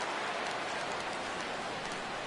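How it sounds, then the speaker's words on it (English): Heavy rain during a baseball video game, a steady dense hiss of falling rain alone with no talk, even and moderately loud throughout. "Well, the rain is really coming down."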